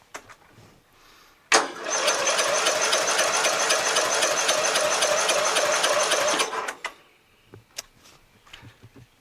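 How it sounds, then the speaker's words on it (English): The 12.5HP Briggs flathead engine on a Murray widebody lawn tractor cranks on the starter for about five seconds in a fast, even, rattling whir, then stops, followed by a few faint clicks. "Let's give it a couple of cranks and see."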